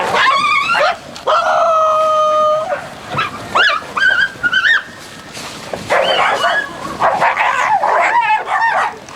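A large pack of dogs feeding together from a shared bowl, heard up close as a busy run of yips, whimpers, howl-like whines and short barks overlapping one another, loud and almost continuous.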